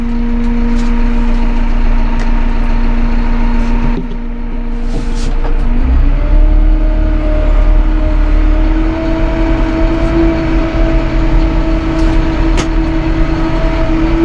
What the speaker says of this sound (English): turn on our PTO